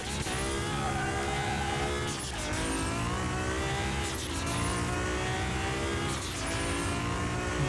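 Nissan GT-R tuned to 900 hp in Car Mechanic Simulator 2021, engine roaring and revving hard through a handbrake turn, with repeated rises and dips in pitch as it accelerates and brakes, loud and steady throughout.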